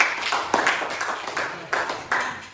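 A few people clapping sparsely in a classroom: scattered, uneven claps with distinct individual hits, fairly close and soft, without any talk.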